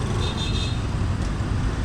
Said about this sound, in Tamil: traffic start ஆயிடுச்சுப்பா